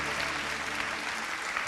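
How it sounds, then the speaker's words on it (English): A short burst of lively applause from an audience, dense clapping filling the whole moment. "Give yourselves a big round of applause."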